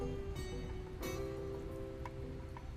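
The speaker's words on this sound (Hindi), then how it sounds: "तुम यहाँ बारिश में क्यों भीग रही हो?" Steady rain falling outdoors, a continuous soft hiss of drops on surfaces with a few brighter ticks, moderately faint and unbroken throughout.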